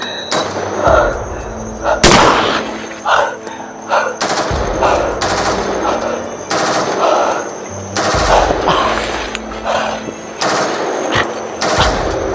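Heavy gunfire with machine-gun bursts and loud single sniper shots cracking near and far in repeated volleys across the whole stretch, some booming blasts standing out above a constant din of firing.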